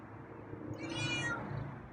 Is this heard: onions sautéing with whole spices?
no